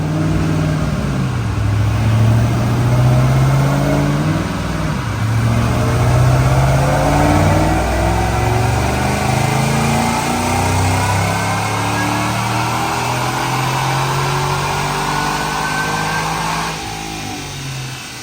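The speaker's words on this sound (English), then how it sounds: "Check out this dyno pull." A supercharged 2008 Mustang GT with an Edelbrock supercharger, 9 psi, clutch and aluminum driveshaft, makes a dyno pull: a loud, close engine winds steadily up through the revs with supercharger whine, then drops off at the end.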